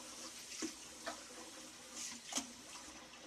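Water is splashed onto a face before a second shaving pass: quiet, scattered splashes and drips from a sink, close but faint, with no speech.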